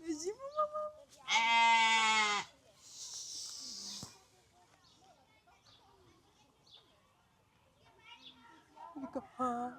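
A single loud sheep bleat at a zoo in Zurich rings out close by, with quiet speech and softer background noise before and after it.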